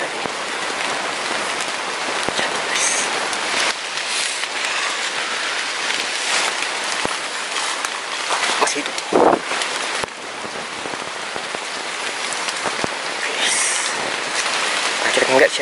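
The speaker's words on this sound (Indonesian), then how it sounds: "Lagi hujan, guys, kayaknya." Steady rain falls throughout on an outdoor hunting spot in fruit season, a dense broadband hiss with occasional louder drops and brief bursts, close and continuous.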